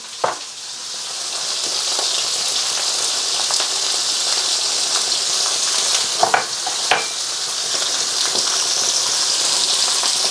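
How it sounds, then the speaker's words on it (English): Pork chops fry in a wok with a loud, continuous sizzle and crackle, spattering throughout with a few sharper pops and scrapes, close up and with no voices. "And I'm going to fry these pork chops about a minute on each side."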